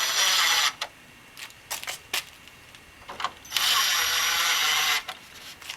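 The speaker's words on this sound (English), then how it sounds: "Go ahead and take our drill here." A power drill whirs in two long bursts with short blips between, driving fasteners into the plastic clips on a front header panel of a 1997-2001 Jeep Cherokee XJ, loud and close with no talk.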